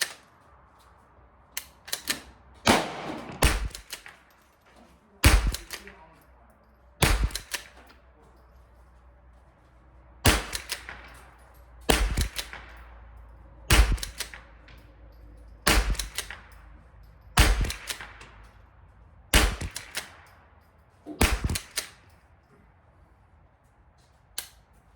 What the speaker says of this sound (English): So let's just look at some shooting videos with this rifle.